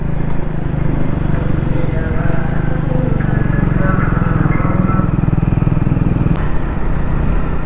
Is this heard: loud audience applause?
no